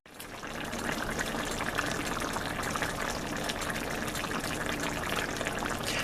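Chicken in red wine bubbles uncovered at a heavy simmer, a dense, steady stream of popping and gurgling that holds at a constant level without any voices.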